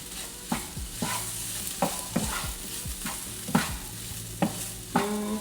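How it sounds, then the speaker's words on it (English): Flour for biscuits-and-gravy roux is stirred and cooked down in a sizzling pan, a steady fry hiss broken by regular scraping spoon strokes roughly every second, close and without talk. "just try to get all that visible flour cooked down before we add in our liquids"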